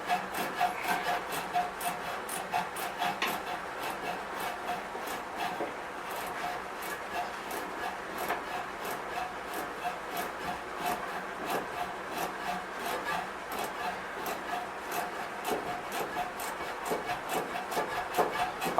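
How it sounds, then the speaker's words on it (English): A 3/8 gear wrench ratchets on the fuel tank clamp of a 1966 Chevrolet C20 with an in-cab tank, making a steady, close train of rhythmic clicks that lasts throughout. "I'm using a gear wrench,"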